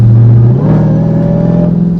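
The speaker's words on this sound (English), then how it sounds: "You can hear that intake. Something about a supercharger whine" A supercharged V8 in a high-mileage, roughly 800 hp Dodge Charger Hellcat revs loud and close, its tone climbing as the supercharger whine rises and holds steady over the deep intake and exhaust rumble.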